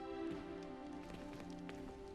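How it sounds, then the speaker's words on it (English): Hail falling in the video game Hogwarts Legacy, a faint continuous patter of many small impacts under a steady tonal background. "That hail is going through the hood."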